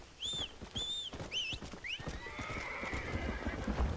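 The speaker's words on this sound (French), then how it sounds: "Allez, viens cheval." A horse in the Red Dead Redemption video game gives several high neighs and whinnies over rhythmic clip-clopping hooves, the calls repeating in quick succession before settling into steady trotting footfalls, close and clear.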